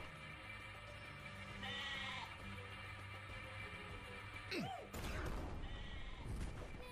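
A sheep in a video game gives a short bleat over a steady game soundscape, followed by sharp swooping game effects.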